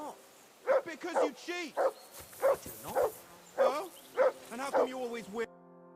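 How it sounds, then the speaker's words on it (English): Repeated dog barks in the Kingdom Come: Deliverance II video game, about a dozen sharp barks in an uneven rhythm, fairly close, with a game music tone lingering at the end. "I assume you can hear that damn dog of yours barking."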